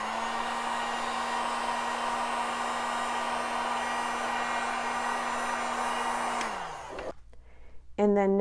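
A heat tool on its lowest setting blows a steady whooshing hum with a low motor drone as it melts the wax top of a candle, loud and close for about six seconds before switching off and winding down, followed by brief clicks.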